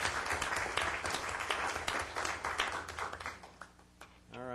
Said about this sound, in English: I think a round of applause is appropriate.